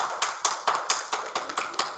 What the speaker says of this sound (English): Everybody, let's give him a round of applause.